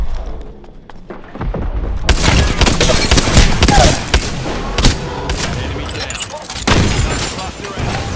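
An R99 submachine gun in a video game fires in long rapid bursts, loud and dense with booming impacts, while a voice talks over the gunfire.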